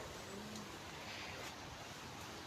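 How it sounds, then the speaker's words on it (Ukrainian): Steady, faint rush of wind buffeting the microphone, a continuous broadband roar with no other sounds. "Вітер."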